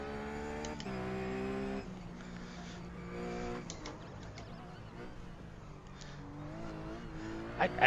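A Ruf race car at Bathurst in iRacing, its engine note stepping down through repeated downshifts while the rear end hops and chatters, with harmonic revs rising and falling over about eight seconds, steady and moderately loud.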